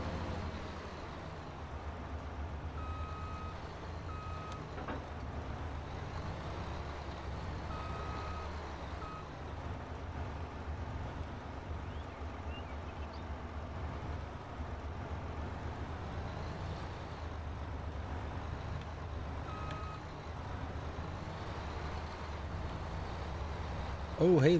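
A tractor in Farming Simulator 22 backs up to hitch a baler, its reversing beeper chirping at intervals over a steady engine drone while someone talks throughout.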